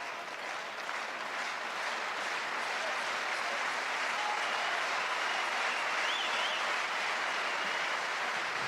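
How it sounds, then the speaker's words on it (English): A large arena crowd at a World Championships table tennis doubles match applauds in sustained, dense clapping that stays steady throughout. "The crowd doing their best to lift Timo Boll and Ma Long."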